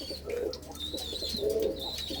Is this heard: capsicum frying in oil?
no